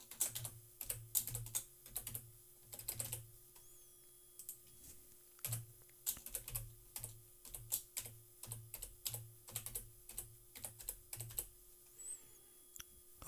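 Fingers type a username and password on a computer keyboard in uneven bursts of crisp clicking keystrokes, close and fairly quiet, with short pauses between runs and no talking.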